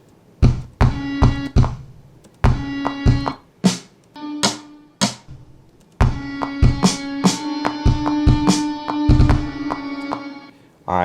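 A trap drum pattern from a stock kit plays in a rock-flavoured beat, punchy kick thumps alternating with crisp snare hits in a bouncing rhythm, loud and close, with pitched tonal layers building underneath in the second half.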